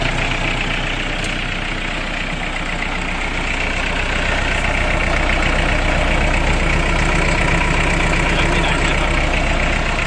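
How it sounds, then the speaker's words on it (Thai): A 2018 Iseki NT554 tractor engine idles steadily and loudly at close range, a continuous even diesel rumble with no speech over it for the full ten seconds. "ดูเครื่องยนต์ กับไม่มีไอนะครับ ไม่มีไอออกระบาย"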